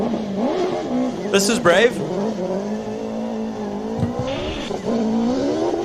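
A Hayabusa-powered Radical race car on slick tyres at a hill climb, its engine revving loud and near with rising and falling pitch while a commentator talks over it.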